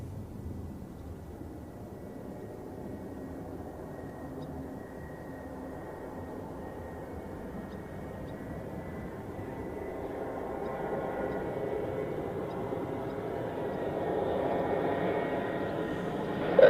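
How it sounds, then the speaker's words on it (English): Aer Lingus airliner from Dublin arriving at Zurich Airport, a steady distant engine roar that slowly swells louder toward the end, with no talking over it. "Shamrock, Aer Lingus from Dublin"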